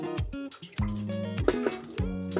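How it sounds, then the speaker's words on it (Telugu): Water lightly sprinkled by hand over fenugreek seeds in a pot, giving a few close, soft drips and splatters in short bursts with quiet pauses between. "జస్ట్ దీని మీద లైట్గా వాటర్ చల్లుతున్నాము"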